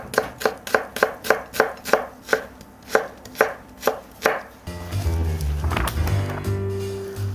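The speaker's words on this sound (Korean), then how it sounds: "이 양파는 소스에 들어가는 거래. 그래서 적당히 크게 썰어도 될 것 같아" Knife chopping onion for meatball sauce, about a dozen crisp, evenly spaced cuts on a board, close and clear, followed by sizzling or rustling kitchen noise.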